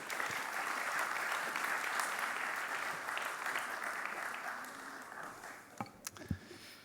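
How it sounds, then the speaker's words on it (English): Sustained applause from an audience at a formal address in Mumbai welcoming the Ambassador of France to India, steady clapping that thins and fades out toward the end. "Can we please have a huge round of applause?"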